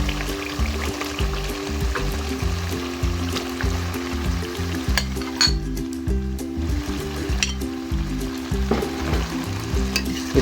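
Diced potatoes, about a kilo, stirred into masala frying in ghee: loud continuous sizzling with rhythmic scraping and clinks of a spoon against the pan, close up, no talk.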